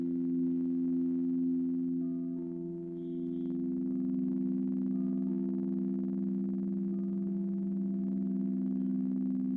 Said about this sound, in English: sound bowls rule, right?